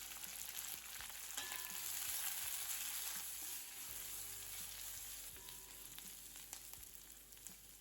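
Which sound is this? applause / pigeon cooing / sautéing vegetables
sautéing vegetables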